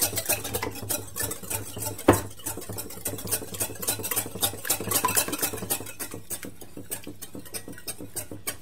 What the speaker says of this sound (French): Dans un saladier, j'y verse mes 2 œufs. Je les mélange.